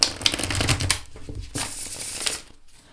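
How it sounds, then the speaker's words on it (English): Steampunk Faerie tarot cards on glossy Llewellyn cardstock are shuffled in quick riffling bursts, crisp papery flutters and slaps close to the listener, pausing briefly between shuffles. "so let me show you how it shuffles."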